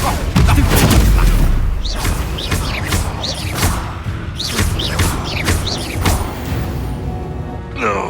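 Confringo blasting spell explosions in the video game Hogwarts Legacy boom loudly and close, a heavy blast followed by repeated thuds and crackling impacts during a wizard duel, with shouted voices mixed in.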